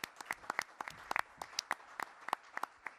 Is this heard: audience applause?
yes